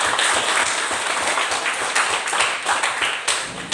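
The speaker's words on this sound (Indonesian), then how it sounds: "Berikan aplaus untuk kita semua." A classroom of students claps together during a school economics lesson. The applause is brisk, even and close, and it carries without a break from start to finish.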